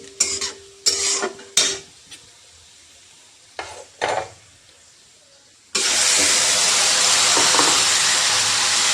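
Spiced curry in a pan: a few metal clanks and scrapes come first over a quiet background, then a loud, steady, close sizzle bursts in and continues to the end.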